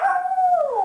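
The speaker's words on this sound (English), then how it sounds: "Now, isn't that bark funny?" A dog lets out one drawn-out, howling bark that bends downward in pitch, loud and close, with no talk over it.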